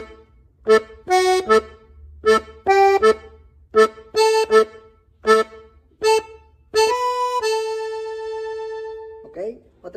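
A G button accordion plays a melody at a quicker tempo, with clusters of short reedy chords in a lively rhythm ending on one long held chord, close and clear with no talking.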